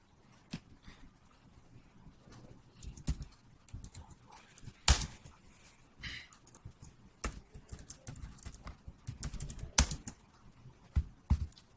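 Typing on a computer keyboard: irregular bursts of quiet key clicks with a few louder clacks, close and soft, with no talking over them.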